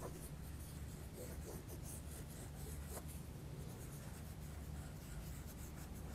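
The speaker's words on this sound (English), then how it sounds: "So I'm just going to keep scribbling around this bit." Steady, soft scratching of a Derwent Inktense colored pencil scribbling across paper, continuous and close, with quick back-and-forth strokes and no talking.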